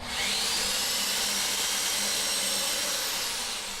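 A power drill bores holes into the frame of an ITG2 dance pad replica, giving one loud, steady, unbroken whir that runs the whole time with no voices.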